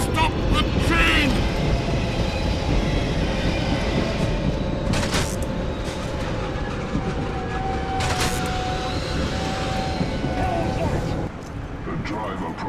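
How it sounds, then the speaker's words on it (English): A train in Killzone 2 rumbles loudly and grinds with squealing metal tones while braking to a halt, a dense continuous roar with sharp screeches, under talk. "we're able to find the conductor and make him pull this train to a grinding halt."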